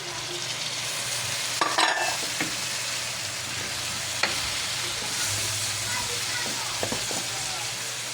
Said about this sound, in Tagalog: lagay na rin natin ang ating ampalaya